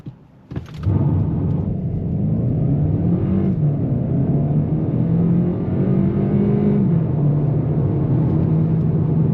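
A 2018 VW Golf GTE plug-in hybrid's 1.4 TSI engine catches, then roars as the car accelerates hard from standstill with ESC off, the pitch climbing through several gear changes in a loud, sustained run.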